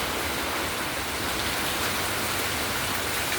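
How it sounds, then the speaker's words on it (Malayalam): Heavy rain pours down in a steady, dense hiss during flooding in Kerala, loud and unbroken throughout, with no voices. "ഭയങ്കര മഴ. വീണ്ടും മഴ പെയ്തുകൊണ്ടിരിക്കുന്നു."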